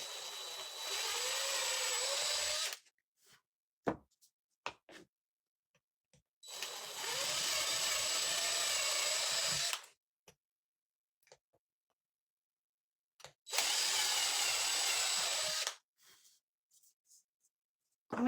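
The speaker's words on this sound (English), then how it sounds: "We're going to drill holes in the corners." A power drill whirs in three separate bursts of a few seconds each, drilling holes into the corners of wooden craft sticks, separated by quiet gaps with small clicks and taps.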